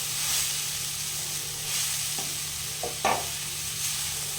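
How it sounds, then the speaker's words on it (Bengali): Sugar and grated coconut are stirred in a kadai for coconut laddu, a steady close sizzle with a few soft scrapes of the spoon. "সবসময় নাড়তে হবে, তো না হয় কড়াতে লেগে যাবে।"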